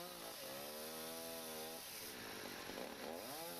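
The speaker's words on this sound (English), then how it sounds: "The rough notch is quickly cut with just 2 chainsaw cuts, and this removes a V-shaped wedge of wood." A chainsaw runs steadily and loud as it cuts a rough V-shaped notch in wood, its engine pitch dipping and rising with each pass.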